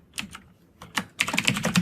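Code being typed on a computer keyboard, with a few scattered keystrokes followed by a faster, steady burst of close clicking keys and no talking.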